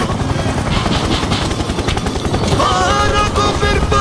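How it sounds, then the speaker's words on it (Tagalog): A military helicopter's rotors thud in a rapid, steady beat in the Battlefield 6 video game, loud and close, with bursts of gunfire mixed in. "Kaya dito na nga lang ako sa paborito kong Helicopter!"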